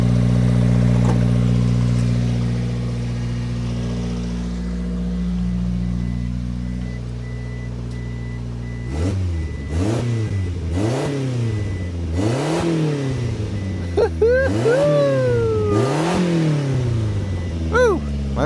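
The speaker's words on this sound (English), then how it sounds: "Couple toots on the accelerator." Subaru Sambar TT engine with a custom exhaust, first idling steadily, then revved in several sharp blips that rise and fall, each one louder and rumbling, close up with no talking.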